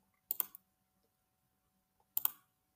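Two crisp computer mouse clicks, each a quick double tap, separated by about two seconds of near silence, faint and close.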